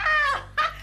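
Tommy the dog whimpers close up in a few high, wavering whines, two long cries broken by a brief pause.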